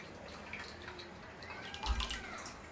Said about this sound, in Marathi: आता हे पाणी जे आहे ते आपल्याला परत एकदा चाळणीमध्ये टाकून घ्यायचंय